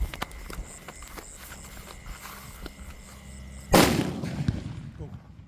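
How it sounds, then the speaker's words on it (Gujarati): Scattered faint pops and clicks, then one loud sharp firecracker bang nearby with a rumbling, crackling tail, at midnight during a Mahadev temple maha aarti. "રાતના બાર વાગે બાર વાગે ફટાકડા ફોડવા આવ્યા"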